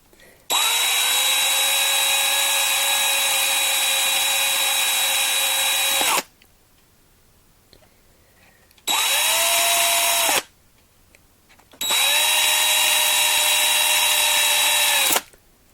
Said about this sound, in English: I don't want to drill any more of that plastic piece than I have to